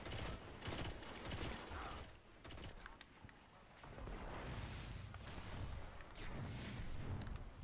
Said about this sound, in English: yes, ladies and gentlemen, that's a grenade